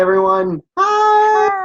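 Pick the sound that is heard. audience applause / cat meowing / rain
cat meowing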